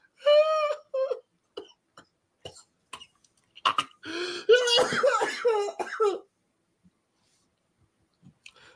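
Several sharp coughs and throat clearings close by, first in short separate bursts, then a longer rough fit, followed by quiet.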